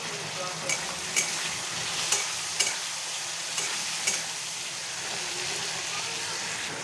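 Tomato and spices frying in a pan for a fish and potol curry, with a steady low sizzle throughout and periodic sharp scraping stirs about every half second to second, close and moderate in level.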